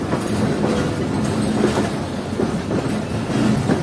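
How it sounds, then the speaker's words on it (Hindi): The Jaffer Express passenger train runs on the rails toward the Quetta line, its cars giving a steady rolling rumble with clickety-clack wheel beats and light squeal, heard from on board with no talking. "तो ट्रेन हमारी डाइवर्ट हो चुकी है ML5 की तरफ, यानी कि कोयटा वाली लाइन की तरफ"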